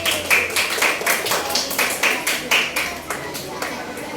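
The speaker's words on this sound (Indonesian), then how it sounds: "Oke, beri tepuk tangan untuk kelompoknya Nabi." Classroom applause for a student group during an Islamic religious education lesson on fasting: a string of sharp, fairly even claps at close range, with a background voice murmuring underneath.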